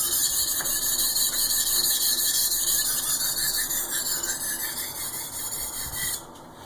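A knife is sharpened on a 6K whetstone with an even, continuous high rasping scrape that runs steadily, then softens and ends near the finish.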